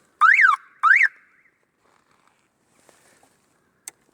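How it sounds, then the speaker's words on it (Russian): Horn of a homemade quad bike built from a Dnepr motorcycle, sounding two short warbling electronic beeps in quick succession, close and loud, followed by faint handling clicks and a brief tick. "Звуковой сигнал."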